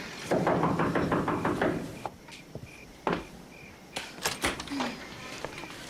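Sharp knocking on a door, a few distinct raps heard after a stretch of speech and general room noise.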